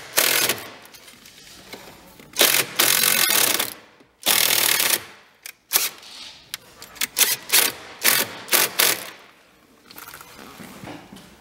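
Ratchet tightening a grounding bolt on a minivan, bursts of rapid clicking in uneven spurts with short pauses between, close up and loud.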